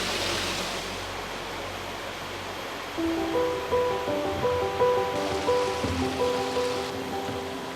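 A constant roar of rushing water from a waterfall in Bali fills the scene, with music entering partway through over the steady wash.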